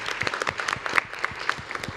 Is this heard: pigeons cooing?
no